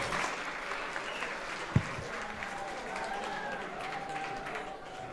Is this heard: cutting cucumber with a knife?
no